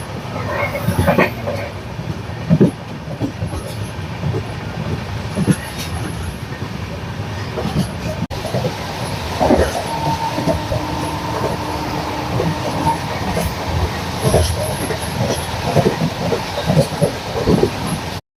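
A passenger train runs on rails near Okha on the Mumbai–Okha line, a steady broadband rumble with rhythmic rail clatter lasting throughout, fairly loud and close, with faint voices now and then underneath.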